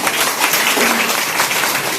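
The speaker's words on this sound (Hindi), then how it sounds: "एक जोरदार तालियों से इनका स्वागत करें" An audience claps warmly to welcome a speaker at an office inauguration event in Nawada, dense steady applause filling the room throughout.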